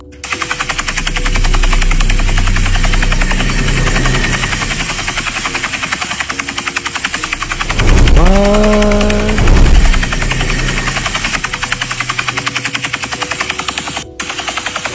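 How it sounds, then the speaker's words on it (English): Steady loud mechanical chopping drone runs throughout, like helicopter rotors, with a brief rising engine whine midway and no voices. "the video of these helicopters flying around this thing"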